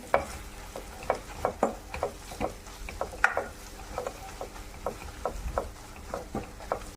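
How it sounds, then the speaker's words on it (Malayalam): Spice powders roast in oil in a pan for Kerala-style beef kurma, a soft sizzle under repeated scraping strokes of a spoon or spatula stirring at an uneven rhythm, close and fairly quiet. "നല്ലോണം ഈ പൊടികളെല്ലാം എണ്ണയ്ക്കകത്ത് കിടന്ന് നല്ലോണം ഒന്ന് മൂത്ത് വരട്ടെ."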